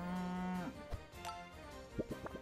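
A cow moos in the video game Super Auto Pets, a long, loud, close low bellow that bends and breaks off, followed by a few short clicky game sounds.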